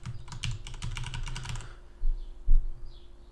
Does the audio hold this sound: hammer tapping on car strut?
no